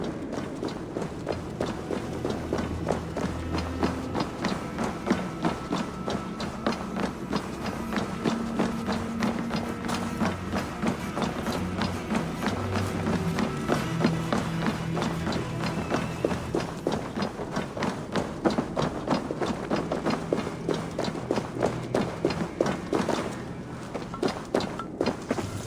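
Horses gallop and feet run in Assassin's Creed Valhalla, a steady, dense rhythm of hoofbeats and footfalls that holds at a loud, constant level throughout with no pauses.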